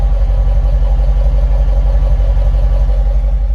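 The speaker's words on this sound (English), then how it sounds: "I'll get a sound of the exhaust when it's idling. It's got a nice real rumble when it's running." A 2014 Dodge Challenger R/T with stock exhaust idles steadily with a deep, pulsing exhaust rumble, loud and close, its low throb repeating evenly with no other sounds.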